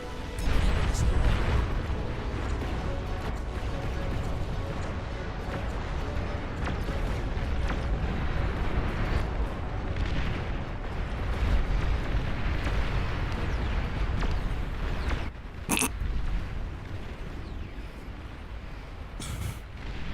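Commander unit destroyed in the Beyond All Reason strategy game, dense rumbling explosions and blasts running continuously for twenty seconds, with sharp bursts near the end.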